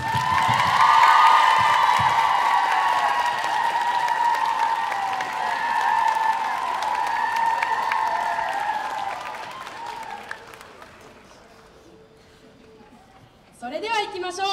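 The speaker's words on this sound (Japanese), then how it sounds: "拍手。" A crowd applauds at a high school brass band concert held in a shopping mall. Loud, sustained clapping with voices over it holds for about ten seconds, then fades to a quiet lull before a new sound starts.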